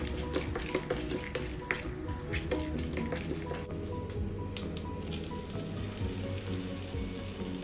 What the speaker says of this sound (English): We are going to fry it well.